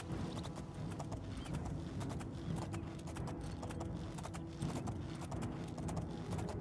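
Rapid, rhythmic hoofbeats of a galloping black horse, steady and close, from the video game The Elder Scrolls IV: Oblivion, with no voices over them.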